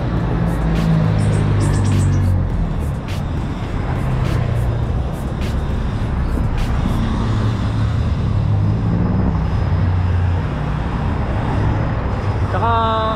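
A Mitsubishi Adventure with a drop kit and 4x4 conversion drives along, its cabin filled with a loud, steady engine and road rumble, while a person talks intermittently over the noise.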